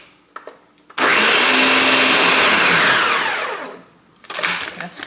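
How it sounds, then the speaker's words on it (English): A kitchen blender whirs loudly through homemade Nutella, starting abruptly, holding a strong steady roar for about three seconds, then winding down before a short burst of rattling. "We are back to blending."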